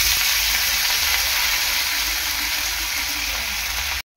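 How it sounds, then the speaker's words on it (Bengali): Potatoes fry in hot oil in a pan with a loud, steady hiss and crackle for about four seconds before cutting off abruptly. "আলুগুলো দিয়ে দেবো।"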